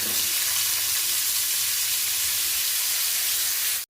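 Thinly sliced unripe green tomatoes hiss and sizzle in hot oil for a chutney, a loud steady frying crackle that holds evenly before cutting off abruptly at the end, no talk.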